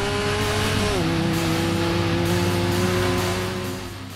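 A 2024 Yamaha YXZ1000R side-by-side with a six-speed gearbox, shifted manually, holds a loud, steady engine drone close by; its pitch drops just before one second as a gear changes, then stays level until the sound eases off at the end.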